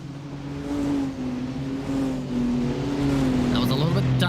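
A race car gets around a slower touring car during the Winter 24 Hours at the Nürburgring, its steady engine drone rising and revving as it passes, with a commentator talking over it throughout.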